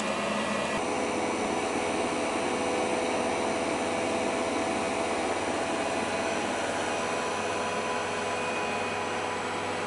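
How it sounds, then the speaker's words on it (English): A Tefal Actifry air fryer runs with its blade stirring chips, making a steady, unbroken whirring hum at close range with no voices. "the blade is turning inside, which agitates the chips"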